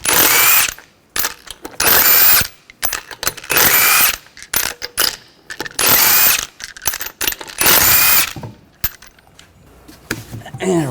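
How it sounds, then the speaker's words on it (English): A ratchet with a 19mm socket loosens lug nuts on a 2013-2019 Ford Escape in repeated loud bursts of rapid clicking, close up, with brief gaps between strokes. "Remove the lug nuts,"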